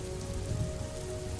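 Steady rain falls at twilight as a dense, even patter that holds at a constant level for the whole stretch, with no voices and no thunder.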